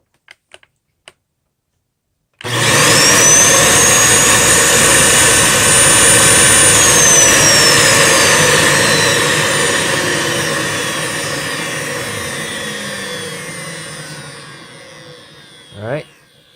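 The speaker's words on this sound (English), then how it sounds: "This is the Dyson DC41 no filter raw ball suction test" A Dyson DC41 upright vacuum cleaner runs with its filters removed for a raw suction test. After a few faint clicks it starts up loud with a rising whine, holds a steady roaring hum that slowly fades, and ends with a brief bump.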